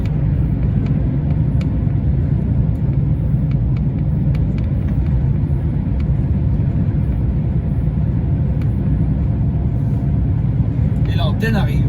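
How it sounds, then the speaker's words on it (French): A car overtaking on a rural road near the Saint-Michel reservoir at Brasparts, Brittany, a steady loud road and engine rumble heard from inside a moving vehicle. "une voiture qui me double"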